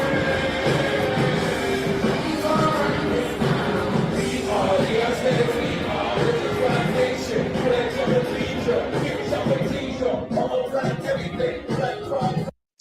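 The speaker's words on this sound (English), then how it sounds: "You outside the stadium, you miles away, you hear the crowd go crazy." A large crowd roars continuously at a concert at Yankee Stadium, a dense, muffled wash of cheering heard from outside that cuts off abruptly at the end.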